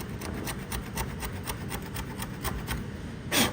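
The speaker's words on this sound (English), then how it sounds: "So let's scrape on this, see what happens." Scraper dragged across a rusted bare metal panel to strip primer, a steady close rasping scrape with rhythmic strokes and a sharper scratch at the end.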